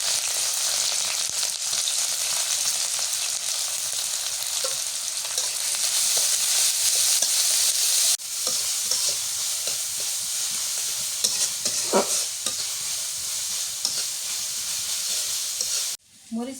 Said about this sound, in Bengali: মরিচ পেঁয়াজ ভাজা হয়েছে